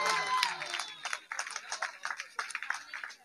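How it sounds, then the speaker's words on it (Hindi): Church congregation at the Gospel Baptist church in Sahiwal applauding singing contest winners, irregular clapping that rises and falls in short bursts over room noise, moderately close. "इनके लिए जोरदार तालियां बजाएं।"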